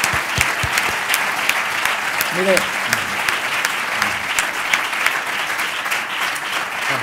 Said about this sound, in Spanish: Aplausos para ti, ¿eh?